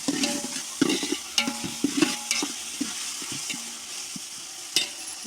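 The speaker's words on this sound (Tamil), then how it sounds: "இது நல்லா வதங்கட்டும்." Tomato, mint and coriander sautéing in a pan, with close, sharp spatula scrapes and knocks over a steady sizzle, the strokes coming in quick irregular bursts with no voices.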